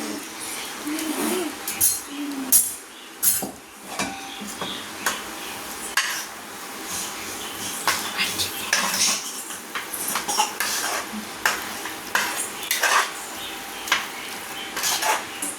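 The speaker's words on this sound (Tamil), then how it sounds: "பாருங்க புளி போட்டு நம்ம இந்த அளவுக்கு கலந்து விட்டுக்கிட்டோம்" A spoon stirs tamarind into spicy ginger thokku in a pan, scraping and clinking against the metal in irregular strokes close by, with a faint sizzle underneath.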